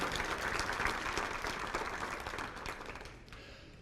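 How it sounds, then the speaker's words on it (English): An audience at the Eastern New Mexico Hall of Honors banquet in Portales applauds for a local florist's decorations, a steady burst of clapping that slowly fades over a few seconds. "please give them a round of applause"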